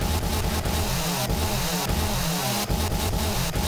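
A chainsaw cuts wooden spike traps in a modded 7 Days to Die game, a loud, steady buzzing engine drone with rhythmic bursts as the blade bites.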